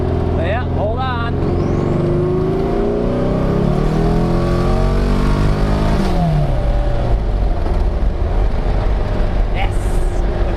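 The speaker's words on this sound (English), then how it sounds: "car seems to be running really good" A freshly tuned car's engine revs hard and climbs through the gears while pulling out in second with a data logger running, loud and close throughout, its pitch sweeping upward and then dropping.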